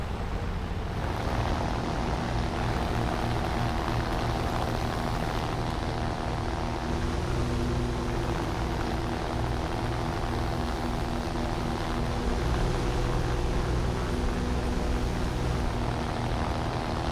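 A damaged propeller plane engine in the War Thunder air-combat game drones loudly and steadily for the whole stretch, a dense continuous roar with no talk over it.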